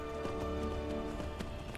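Horse hooves clip-clop in a steady galloping rhythm while riding a horse in the video game Skyrim, close and continuous with no talk over them.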